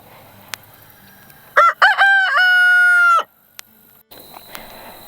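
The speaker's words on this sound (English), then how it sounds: "Now this chicken flock is over here." A rooster in a farm chicken flock crows loudly and close, a stuttering start followed by one long drawn-out cock-a-doodle-doo, with quiet clucks and barnyard ambience around it.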